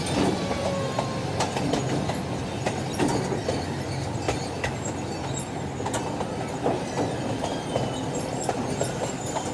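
The St. Louis Zoo train rolls along its track, a steady rumble with rhythmic clacking of wheels over rail joints and occasional sharp squeals and clicks, heard from on board at a close, even level.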